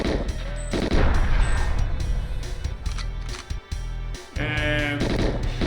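Several sharp gunshots in GoldenEye XBLA burst through a busy, loud game soundscape, with bleating-like tones and clatter mixed in.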